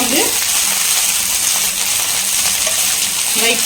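Coriander and mint leaves roast in a hot pan for a green chutney, giving a continuous loud sizzle and hiss with faint stirring scrapes throughout.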